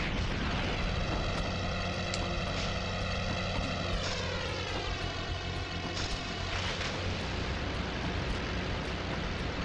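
An airplane engine in the Spider-Man 2 video game roars loudly and continuously, a propeller drone with layered tones that sweep in pitch partway through, and no voices over it.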